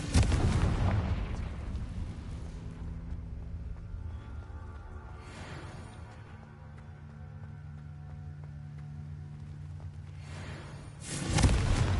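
A Confringo blasting spell goes off in the video game Hogwarts Legacy with a loud booming explosion that rolls into a long decaying rumble, and a second sharp blast comes near the end.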